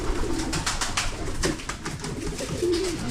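Pigeons coo softly in a loft with young birds, low rolling calls repeated a few times over steady background noise and faint rustling.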